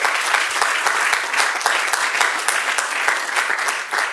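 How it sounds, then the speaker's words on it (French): Audience at a summer camp event applauds the camp monitors, a dense steady wash of many hands clapping at close range for the full stretch, without pauses or voices standing out. "vous allez applaudir très fort pour vous, moniteurs, pour le travail qu'ils vous font"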